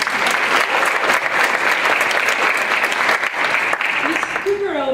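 Loud, sustained applause from the audience at a Board of Education meeting, a thick continuous clatter of clapping that runs evenly throughout before fading at the close.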